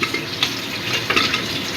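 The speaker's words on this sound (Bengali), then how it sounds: "আলুগুলো একটু লাল লাল করে ভেজে নেব।" Potatoes frying in a pan until lightly reddened, ahead of a thin goat meat curry, give a steady close sizzle with stirring scrapes over a short stretch.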